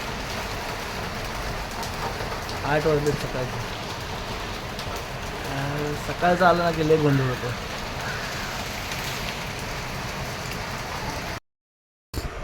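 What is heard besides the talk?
rain falling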